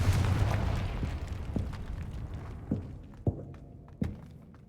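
Spell explosions from the Hogwarts Legacy video game: a dense rumble at the start gives way to several sharp bursts and thumps at irregular intervals, moderately loud with no talk.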